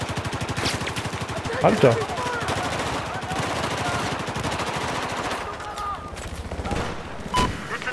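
Gunfire in the multiplayer shooter Battlefield 4 on the flooded Conquest map, a dense run of rapid automatic shots with a few louder bursts, while a man exclaims briefly over the din.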